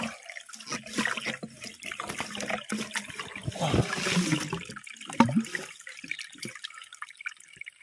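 Water trickles weakly into a fish pond from a pipe unused for about ten years, an uneven splashing dribble close by with faint voices now and then.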